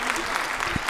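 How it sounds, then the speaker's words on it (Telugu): Audience clapping together at a seminar gathering, steady and moderately close, a brief dense patter of many hands with a faint low voice underneath. "రమణం గారికి గట్టిగా క్లాప్స్ కొట్టేసేయండి అందరం"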